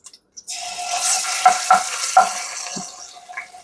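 Ginger paste hits a hot pan and spits with a brief, loud sizzle, followed by a few scraping stirs that fade as the frying settles.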